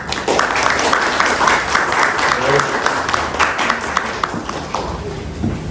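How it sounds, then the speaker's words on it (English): Audience applause for Shabeena Zaidi at a book launch, a dense steady round of clapping from a sizeable crowd lasting throughout, with some murmuring underneath. "Let's give her a big round of applause"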